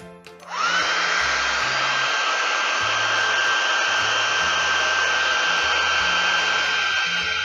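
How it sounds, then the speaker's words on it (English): A hair dryer blows steadily and loudly, drying glued craft flowers for moccasin paperweights, switching on after a brief moment and running continuously with a constant whine. "We're gonna use our hair dryer and speed up the process so we can get this going right away."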